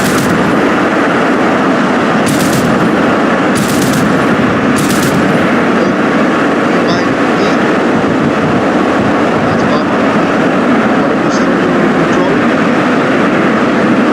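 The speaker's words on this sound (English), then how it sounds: "fire the weapons, you hold spacebar, fire that" Weapons fire from an SU-57 in the DCS flight simulator, three short bursts early on over a steady, loud roar of jet engine and wind noise that runs throughout.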